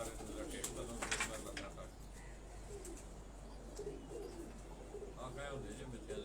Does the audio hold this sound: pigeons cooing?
yes